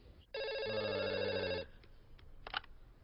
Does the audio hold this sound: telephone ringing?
yes